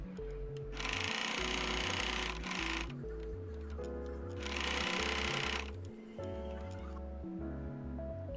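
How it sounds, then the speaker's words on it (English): Domestic sewing machine stitching a sleeve seam toward the cuff of a blazer, running in two long steady bursts with a pause between and quieter mechanical handling after. "I will stitch it down along this line until the cuff point."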